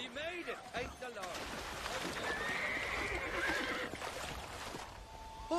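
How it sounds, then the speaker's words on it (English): Horses in the video game Red Dead Redemption whinny and snort near a riverbank landing, with faint hoof clops and flowing water behind, while voices talk over them. "Oh, these horses look fresher."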